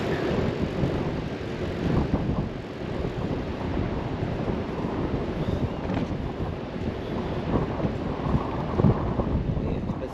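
Steady wind buffeting the microphone, a continuous low rumble with gusty fluctuations and no clear voices, running throughout.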